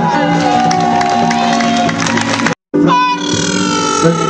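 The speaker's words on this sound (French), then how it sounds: "Lève-toi et acclame le Seigneur" A church congregation cheers and acclaims loudly in a dense mix of shouting voices and reverberant music, cutting out briefly before the noisy acclamation resumes.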